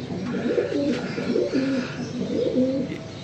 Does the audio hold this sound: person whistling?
no